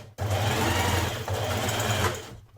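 A sewing machine stitches the shoulder seams of an unlined coat in one steady, close run of about two seconds, with a brief hitch midway and no talk.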